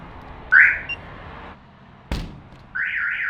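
A trailer alarm system with impact sensors is armed from outside, giving a loud chirping electronic tone, a short blip, a thud, then another warbling siren-like chirp, all close with no talking.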